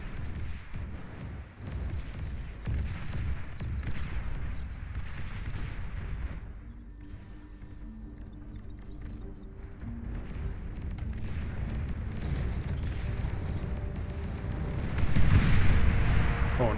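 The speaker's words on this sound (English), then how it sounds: "Hell of a bombing run right there" Video game bombing run that knocks out energy converters: a dense series of rumbling blasts and booms layered with game sounds, loud and sustained, rising into heavier impacts toward the end.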